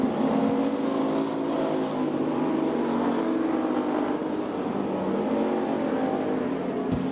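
Race cars roar around the track at Gallatin Speedway in 2003, a dense, steady, loud engine drone that holds without a break as the pack circles, with no talk over it.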